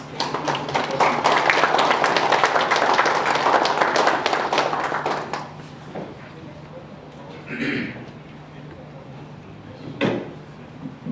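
An awards ceremony audience claps loudly for several seconds, a dense burst of many hands that fades out, followed by quieter room sounds and brief speech.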